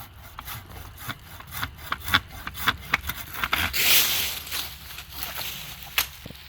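An EZ KUT Kamikaze extending pole saw cuts through maple low to the ground, with quick rasping back-and-forth strokes that grow into a brief heavier scrape and then a few lighter strokes, close and with no talking.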